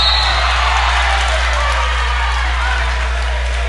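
Crowd at a high school basketball game between Centennial and Bishop Carroll cheering and whooping after a basket late in the second quarter, a loud, steady roar of voices with scattered applause throughout.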